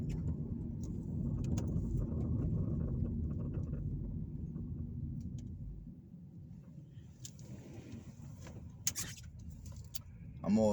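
A car's low engine and tire rumble hums steadily from inside while driving along Camby Boulevard in Camby, Indiana in winter, fading somewhat midway, with a person talking over the road noise.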